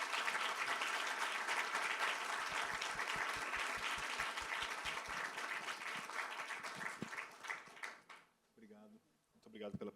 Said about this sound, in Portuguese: Eu peço palmas para a Alessandra Sampaio.